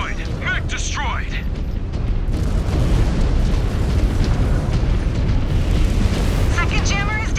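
A mech blows up in MechWarrior 5: Clans, a loud, sustained rumbling blast with dense low-end roar that fills the whole stretch, and brief electronic chirps near the start and end.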